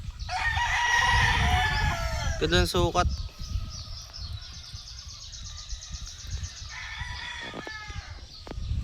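A gamecock of Gilmore cross bloodline crows loudly and close by, one long rising call, with someone speaking briefly before and after in a windy outdoor setting.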